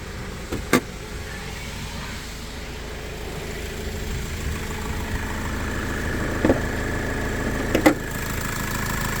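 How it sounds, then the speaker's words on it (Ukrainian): A 2016 Citroen Jumper van's diesel engine idles with a steady low sound throughout, smooth and even, with a few brief clicks and knocks over the hum. "покажемо зараз роботу двигуна"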